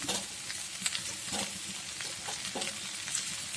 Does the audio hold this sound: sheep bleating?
no